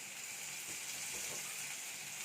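Tomato and onion gravy with rock salt sizzles steadily in a pan, a soft continuous frying hiss at close range, ending in a brief sharp clink at the very end.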